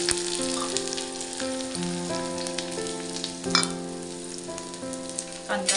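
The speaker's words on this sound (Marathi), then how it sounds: "कांदा चांगला परतून घ्यायचा" Onion frying in hot oil over medium heat, a continuous close sizzle with a few louder crackles and stirring clatters, alone without speech.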